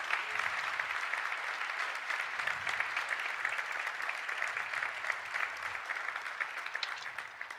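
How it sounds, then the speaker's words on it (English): Audience applause at a conference session closing, a steady, fairly distant wash of clapping from a sizeable crowd that continues evenly without voices. "Final round of applause to recognize the good work done this morning."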